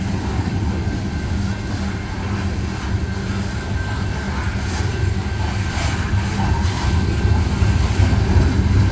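A CSX coal train climbs a grade with locomotives in notch 8, a loud, continuous heavy diesel roar with low rumbling and rail noise that builds slightly toward the end, with no voices.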